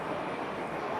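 A Class 67 model train locomotive hauling ballast wagons at a model railway exhibition whirs steadily at close range, giving a constant mechanical rumble with no pauses.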